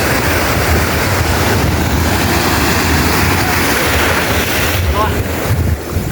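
Waves breaking at Marina Beach in Chennai, a loud constant roar of surf mixed with heavy wind noise on the microphone, close and unbroken throughout.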